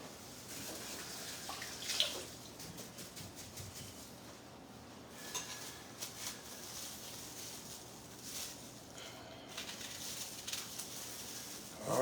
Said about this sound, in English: So I'm going to rinse this onion off real quick.